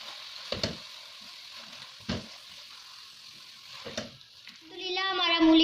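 A spoon stirs radish halwa in a pan with a few spaced scraping strokes over a faint sizzle. Music swells in toward the end.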